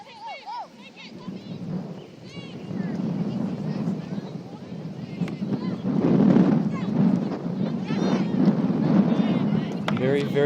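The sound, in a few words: wind blowing on the microphone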